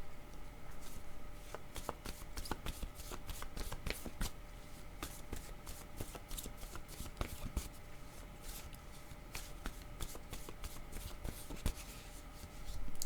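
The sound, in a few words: shuffling oracle cards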